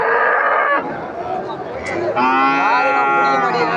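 Cattle low repeatedly at a busy livestock market, loud and close, with long sustained moos layered over background crowd noise and some speech-like chatter.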